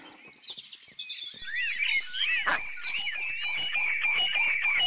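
Birds in the video game Minecraft chirp and tweet in quick, repeated calls that grow louder and denser partway through, with no talking over them.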